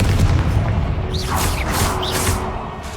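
Booming spell blasts in Hogwarts Legacy, a couple of heavy explosive bursts with crackling hits over a low rumbling background.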